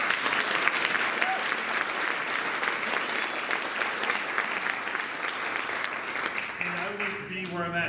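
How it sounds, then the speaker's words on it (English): Sustained audience applause at a real estate summit in Charlotte, dense steady clapping filling the room for several seconds before a voice begins speaking at the end. "So can we give him a round of applause for him?"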